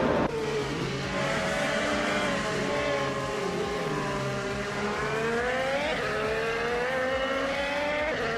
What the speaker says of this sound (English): Beowart is holding firm behind Dale Earnhardt